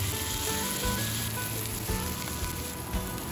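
A steak sears in a hot pan with avocado oil, giving a continuous, even hiss of sizzling that runs without pause at moderate loudness.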